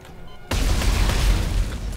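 A creature in the video game Dead Space 3 bursts apart with a sudden loud boom that holds as a dense, rumbling blast for over a second and a half after a quiet start.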